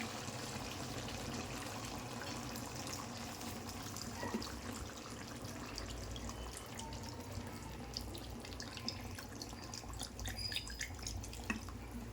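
Tap water running steadily into a home kitchen sink during cooking of chicken curry, a continuous close trickle and splash with scattered drips, no voices.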